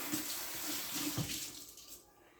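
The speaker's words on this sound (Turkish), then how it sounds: "Ellerimi tekrar yıkayacağım." A tap runs steadily as hands are rinsed under it at a sink, close splashing water that fades out near the end, with no talking.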